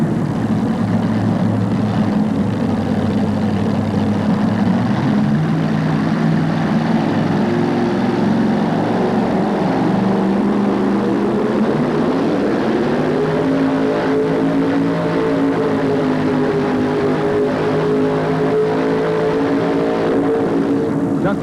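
A 1987 pulling tractor at a Birmingham tractor pull roars loudly and continuously, its engine note climbing in pitch partway through the run.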